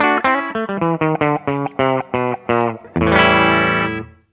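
An electric guitar on a clean patch through a Mooer GE100 multi-effects pedal plays a quick run of separate plucked notes with a clean tone, ending on a sustained ringing chord that slowly fades.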